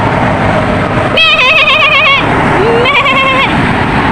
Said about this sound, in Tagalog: Sila o. Yung mga kambing.